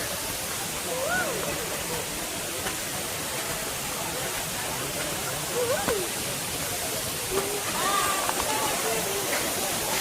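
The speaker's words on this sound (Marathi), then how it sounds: "हा बघा, धबधबा तेवढा मोठा नाही आहे, छोटा आहे" A small waterfall near hillside caves, with steps leading up, gives a steady broadband rush of falling water throughout, while someone talks over it in several phrases.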